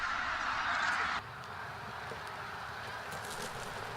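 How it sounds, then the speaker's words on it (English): Bean geese calling in a flock at dawn over Cheonsu Bay, a dense, continuous honking chorus that is louder for the first second, then settles into a steady, softer background of calls. "A cacophony of bird calls erupt in the early hours at Cheonsu Bay."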